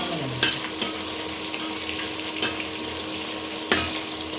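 Food frying golden brown in hot oil, a steady close sizzle broken by a few sharp crackles and stirring clicks, with no talking.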